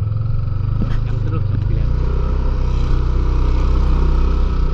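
A motorcycle engine idles and runs at low speed close by, a steady loud rumble as it rolls in to park, with a voice talking over it.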